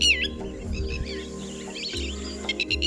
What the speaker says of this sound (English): A bird known for its characteristic loud alarm call